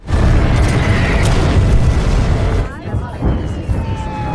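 Heavy explosions roll out as fighter planes bomb an area in a war film scene, a loud, dense rumbling blast that stays sustained before easing off. A lighter mechanical whine carries on afterward.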